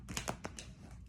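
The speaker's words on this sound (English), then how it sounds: "I need to give these cards like a really good shuffle" Oracle cards being given a vigorous shuffle, a few quick papery riffles and snaps close by, fading into a softer rustle.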